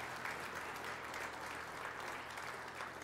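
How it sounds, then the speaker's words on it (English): A crowd applauding steadily for Hall of Fame inductees at Bishop Ward, a continuous wash of clapping heard from some distance, fairly soft throughout. "How about a big round of applause for all three of this year's inductees"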